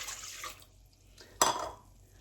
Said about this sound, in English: So now I'm adding in some more water, and this is water I made sure was room temperature.